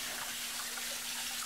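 Tap water runs steadily over ribs being rinsed after a salt and vinegar soak, giving a brief, continuous splashing hiss at moderate volume with no talk.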